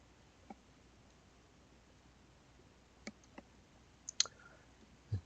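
A computer mouse clicks a few times, faint isolated ticks scattered across a quiet background.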